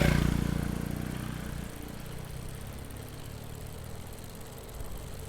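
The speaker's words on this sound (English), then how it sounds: "So I guess the motorbikes can still go on this path." A motorbike engine hums close by and then fades to a steady drone on a tree-lined cycling path in Bangkok. No voices are heard.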